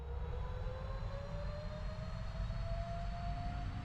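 A PMDG Boeing 777 in a Prepar3D flight simulator rolls for takeoff, its jet engines a steady low roar with a thin whine slowly rising in pitch, faint and continuous with no talk.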